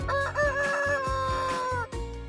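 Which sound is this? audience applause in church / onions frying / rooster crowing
rooster crowing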